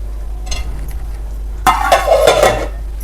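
A metal lid is set onto a cooking pot of vegetable curry, a brief clattering clank with some rattling over a steady low hum.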